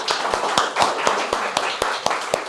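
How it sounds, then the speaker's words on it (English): An audience at a communication skills session claps for a volunteer. Sharp, fairly regular hand claps sound at close range over a brisk patter of lighter clapping, with little speech. "Can we have a clap of hands?"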